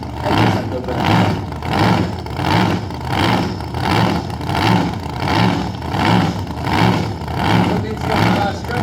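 An 8-litre V8 dragster engine at a drag race in Kiskunlacháza, loud and close, with rhythmic surging revs pulsing about once per second under continuous engine roar while someone talks over it.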